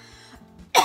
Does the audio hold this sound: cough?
yes